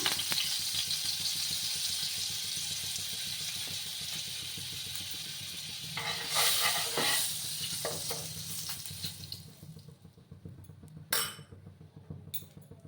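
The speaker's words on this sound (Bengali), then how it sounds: "বাটার দিয়ে দিলাম।" Butter and a little white oil sizzling in a hot wok-style kadai while cooking a white paneer gravy curry: a continuous crackling fry that swells briefly, then thins out into quieter sputters with a couple of faint clinks.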